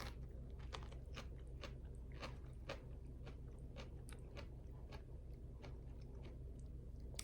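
Raw shishito peppers are crunched and chewed close to the microphone, a rapid string of crisp, sharp bites and crunches repeating steadily against a quiet background.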